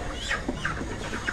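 A large chicken in a Casablanca neighbourhood clucks in a few short, scattered calls close by, over a steady background hum, with no talk.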